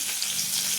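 Garlic sizzling in hot oil with mustard and cumin seeds, a continuous bright crackling fry heard close and alone.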